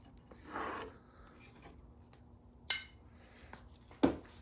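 An aerofabb spoiler extension piece for a Golf is cut in a quiet workshop, with a soft rasping stroke followed by a few sharp, isolated snips or clicks.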